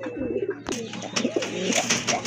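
A pair of black racer pigeons coos steadily up close, soft throaty warbles rolling one after another with a few sharp clatters and shuffles mixed in.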